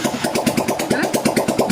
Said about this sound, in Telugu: బండి స్టార్ట్ అయింది